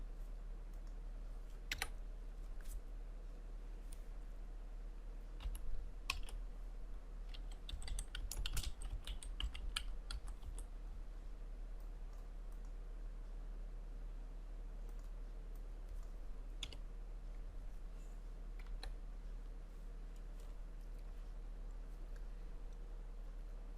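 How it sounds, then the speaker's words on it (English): Typing on a computer keyboard: faint, irregular key clicks spread across a quiet background, with a denser flurry of keystrokes in the middle and steady low hum throughout. "I am typing some text here"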